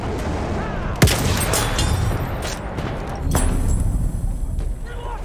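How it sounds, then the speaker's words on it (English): Grenade thrown and exploding in the Battlefield 1 video game, one sharp loud blast among continuous rumbling gunfire and battle noise, with a second heavy burst soon after. "Throwing a grenade."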